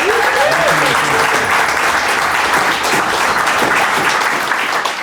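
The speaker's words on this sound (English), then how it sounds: "A big round of applause for those folks." Sustained applause from an audience at the Star and Shadow venue, loud and dense clapping that fills the space steadily from start to finish, with faint voices woven through the crowd.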